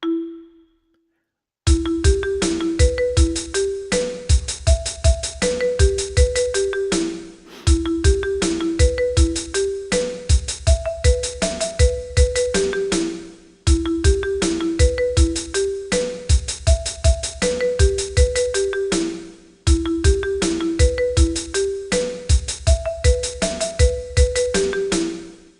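Noteflight notation software plays back a composed melody in a bright, synthetic bell-like tone, four repeated phrases of evenly paced notes, loud and clear, with short pauses between phrases and no talking.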